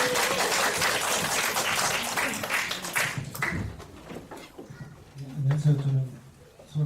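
Applause from a lecture audience, dense clapping filling the first few seconds, then thinning out as scattered murmuring voices take over.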